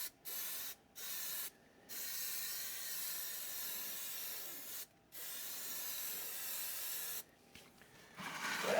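Spray glue hissing from an aerosol can onto a sound blanket for an air conditioner compressor, several steady sprays of varying length broken by short silent gaps, close and moderately loud.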